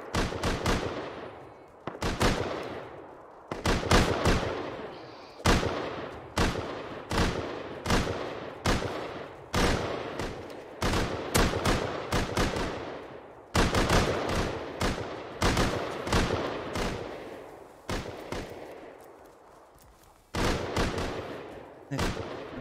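Gunfire in the video game Rust, a long sequence of loud, sharp single shots and quick bursts with echoing tails, spaced irregularly at near range over about twenty seconds.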